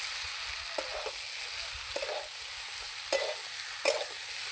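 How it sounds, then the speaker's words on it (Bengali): Ridge gourd and potatoes sauté with spices in a pan, giving a steady close sizzle with a few soft scraping stirs scattered across it. "এবার ঝিঙেটাও আলুর সঙ্গে ভালো করে কষিয়ে নেব।"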